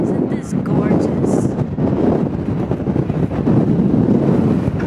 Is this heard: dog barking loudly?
no